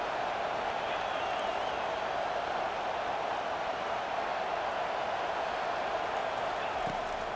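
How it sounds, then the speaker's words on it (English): Steady, dense stadium crowd roar in EA Sports College Football 25, a constant broadband wash of cheering voices with no breaks, moderately loud throughout. "This crowd going to try to make life miserable for these guys."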